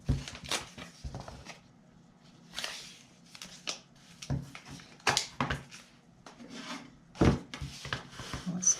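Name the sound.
tape being placed on paper craft box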